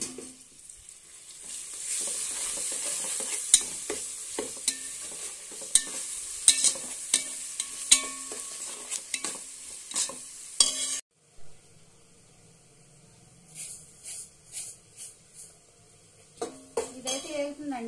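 Ginger garlic paste sizzles steadily in a hot pan for biryani as a utensil repeatedly scrapes and clinks against the metal while stirring, then the frying drops away into quieter clatter and a few taps, with a voice speaking briefly.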